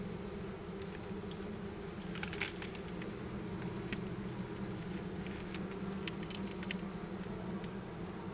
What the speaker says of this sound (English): I got bees crawling on my hand, but they seem to mean me no harm.